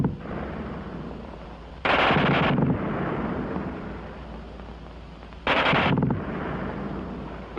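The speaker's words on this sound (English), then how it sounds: "who can't get over the fast burp of that German gun" A German machine gun firing at a very high rate, two loud ripping bursts of about half a second each, separated by a quieter rumbling background.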